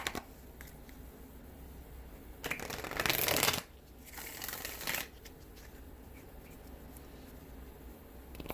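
Tarot cards being shuffled, two quick riffling bursts a few seconds apart in a quiet room, close and soft.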